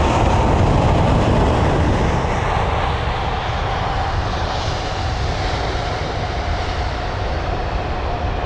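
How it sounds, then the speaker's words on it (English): A Qatar Airways Airbus A380 landing at London Heathrow in a hard touchdown gives a loud, steady jet engine roar and a broad rumble that hold throughout, with no voices. "Oh, that was a Smackdown. Wow. Definitely not the smoothest landing there."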